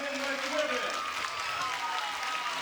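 Standing ovation from the hometown crowd at an AVP Hermosa Beach 2018 beach volleyball match, a dense, steady wash of clapping and cheering with a commentator's voice over it at the start.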